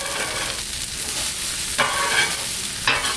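Vegetables sizzle on a Blackstone griddle as they are turned, a steady close frying crackle with a few louder scraping stirs, no voices.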